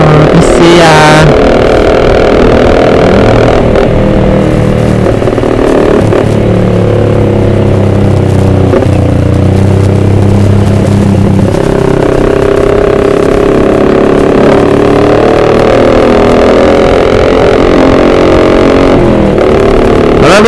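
A Kawasaki ZX25R motorcycle engine revs hard and close on an evening ride, its loud, rasping note climbing and holding in long bursts, with a rider talking over it.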